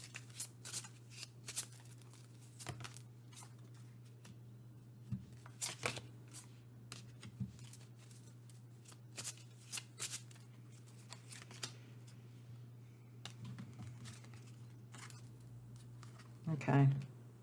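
Astro Chakra oracle cards are shuffled by hand in a quiet room, giving soft repeated riffling bursts with a steady low hum underneath and a louder burst of handling near the end.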